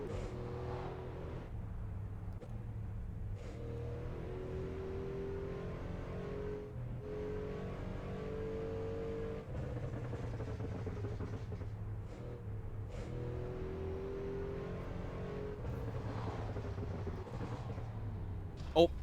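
A fairly big car driving street-level city roads in the Assetto Corsa racing game, its engine humming steadily with shifting revs and occasional passing swells, a voice talking over it throughout.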